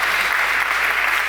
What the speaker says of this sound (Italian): Vogliamo allora fare un grande applauso a tutti quanti